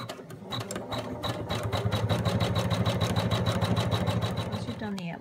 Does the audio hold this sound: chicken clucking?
no